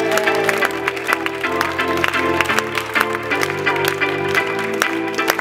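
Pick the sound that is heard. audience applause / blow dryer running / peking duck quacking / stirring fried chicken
audience applause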